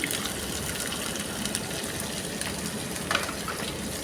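Tomato and masala powder sizzling in a pan while cooking biryani, a steady broadband frying hiss throughout with a brief louder crackle near the end, no talking.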